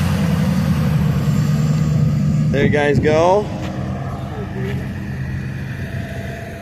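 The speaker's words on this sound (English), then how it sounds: "Hopefully you guys heard those truck sounds okay." Custom trucks idle and rumble at a truck show, including a Ford Super Duty, with a steady low engine drone throughout and a brief higher-pitched whine midway, while someone talks over it.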